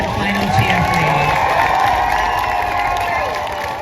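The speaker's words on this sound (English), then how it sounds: "Can we get one final cheer, please?" A crowd at an outdoor protest rally in Leeds gives a final cheer. It is a loud, sustained mix of whoops, shouts and clapping, with voices calling out through it.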